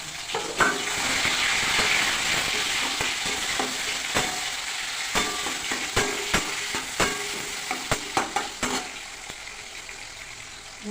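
Tomato goes into a hot pan with bay leaf and dried red chili for a paneer and poppy seed curry, bringing a loud, steady sizzle and then repeated scraping stirs of a spoon against the pan.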